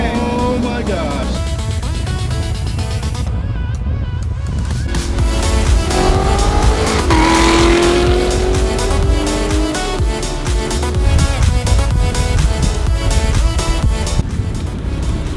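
An Audi R8 sports car revs loudly and drives off, its engine rising in pitch through the gears with a strong roar, close by, while people talk over it.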